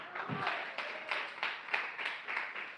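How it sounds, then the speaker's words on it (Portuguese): A church congregation claps in a steady rhythm, about seven or eight soft, even claps at moderate distance, with faint voices underneath. "Palmas de vitória"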